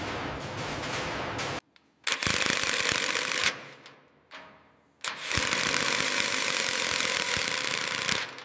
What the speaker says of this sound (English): Ready with the rivet gun.